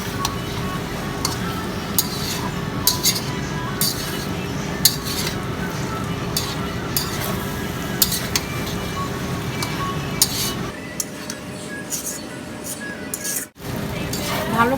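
Rice and egg get mixed in a pan, with a near, busy clatter of a utensil clinking and scraping against metal that runs throughout over a steady background hum.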